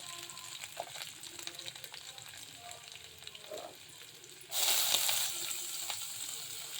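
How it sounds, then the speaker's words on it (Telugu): Ginger and cashews fry in a pan with a soft, steady sizzle under occasional stirring noises, and a louder burst of crackling frying near the end. "మంచిగా ఫ్రై అయింది దీంట్లో అల్లం జీడిపప్పు"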